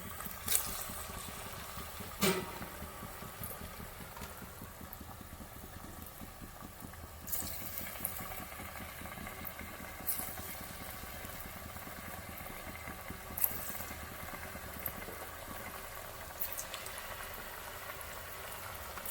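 Sweet potato pitha dough balls fry in hot oil with a steady bubbling sizzle, quiet and close, broken by a few sharp pops and crackles.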